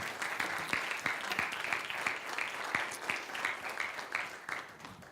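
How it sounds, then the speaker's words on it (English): Lecture audience applauding after an economics talk, steady dense clapping from a room full of people, moderately loud and sustained for several seconds without talk. "let's have a round of applause for Dr. Lisa Gloege"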